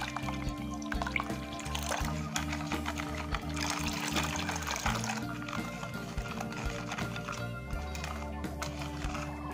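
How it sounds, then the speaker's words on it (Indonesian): Water is poured into a mossy pudding mixture, a steady liquid trickle and splash running under background music for the whole stretch, close and moderately loud. "Lanjut, kita masukkan airnya."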